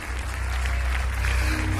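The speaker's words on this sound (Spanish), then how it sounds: "Aplauda con ganas el Dios Santo que no falla" An audience at a church service applauds over low, steady music, the clapping a dense continuous patter at moderate volume with no break.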